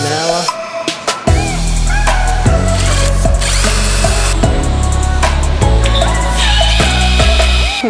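A power drill runs loud and close during drilling and cutting work in a training workshop, its motor whining steadily with repeated pulses as it bites into the material.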